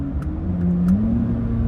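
A Corvette C8 Z06 cruising at night in a high gear, its engine a low, steady drone heard from inside the cabin, fairly subdued and even with a slight rise in pitch partway through and no voices.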